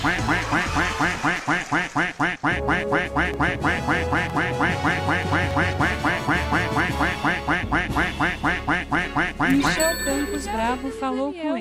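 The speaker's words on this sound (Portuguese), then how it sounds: "Esse pato aí, que não acaba!" A cartoonish duck-quack sound effect repeats rapidly and loudly over a live gaming stream of Yu-Gi-Oh! Forbidden Memories, a long unbroken run of quacks with someone talking over it and a bright bell-like ding near the end.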